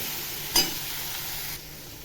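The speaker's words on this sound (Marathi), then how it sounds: "आता गवार टाकते गवार काय मी परतून घेतली नाही पहिली मसाल्यामध्ये चांगली अशी फ्राय करते" Cluster beans frying in masala give a steady sizzle with a brief louder burst near the start, then ease to a quieter continuous hiss.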